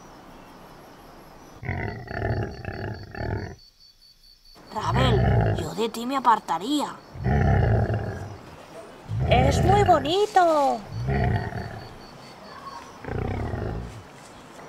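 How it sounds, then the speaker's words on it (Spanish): A cartoon white tiger roars during a stormy animal rescue, its loud, rough growling roars coming in several bursts between lively children's voices talking over the scene. "¡Es un tigre blanco!"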